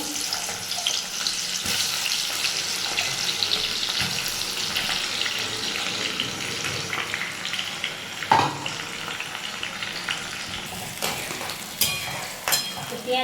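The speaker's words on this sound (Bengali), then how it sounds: "গরম হয়ে এসছে পেঁয়াজ দিয়ে দেবো" Sliced onions frying in hot oil in a kadai for chicken biryani, a steady crackling sizzle throughout with occasional spoon knocks and clatter, and no one talking.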